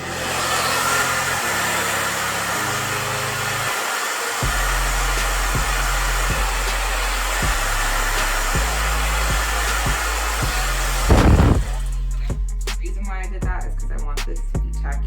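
A hair dryer on its cool-shot setting runs steadily and loudly, blowing over a lace wig to set gel and glue, with a brief louder burst near the end and a few soft handling knocks.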